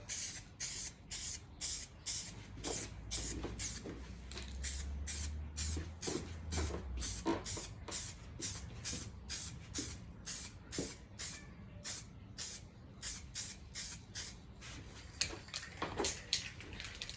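Starlight Silver spray paint hisses onto car parts in a long series of short, evenly spaced bursts, fairly faint and with no talk.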